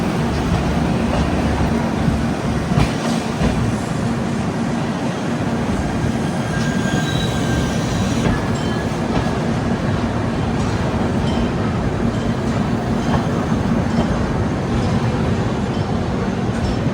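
Kerala Sampark Kranti Express rolling along the tracks, a loud, steady rumble of wheels and carriages throughout with occasional high squeals, heard from close by and without any talk.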